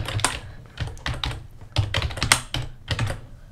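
Typing on a computer keyboard, a close run of crisp, uneven key clicks in quick bursts with short pauses between them, moderately loud and alone, with no talking.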